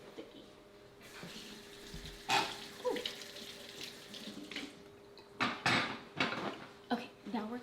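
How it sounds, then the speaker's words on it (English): Water from a kitchen tap runs in bursts as sticky hands are washed while cooking banana pudding, with splashing and hand rubbing under the stream and a person speaking briefly in between. "let me wash my hands. They're sticky."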